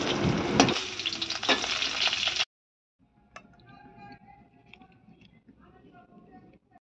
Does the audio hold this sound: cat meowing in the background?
no